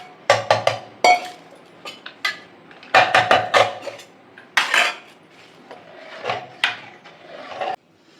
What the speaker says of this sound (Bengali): এই যে আমি এখন ঢালবো, হাঁড়ি দেখা যাচ্ছে তো, খিচুড়ি ঢালতে দেখা যাচ্ছে